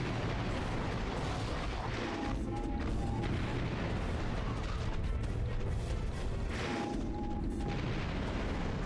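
A mega turret in Ratchet & Clank: Going Commando pounds away steadily, its booming blasts merging into a dense, continuous barrage of heavy gunfire and explosions with no pauses.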